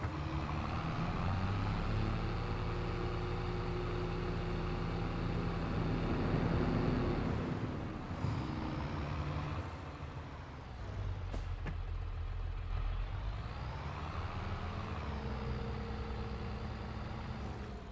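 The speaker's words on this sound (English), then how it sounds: "let's take this tractor back over there" A tractor in Farming Simulator 22 drives along with a steady, loud engine drone, the pitch rising and falling as it works through gears and throttle changes, with a brief hiss partway through.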